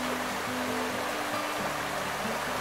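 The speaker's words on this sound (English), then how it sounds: "The water falls out of their line into a funnel" Water falls from a line into a funnel at a sanitary water well, a steady, loud rushing hiss with a low engine-like drone running underneath.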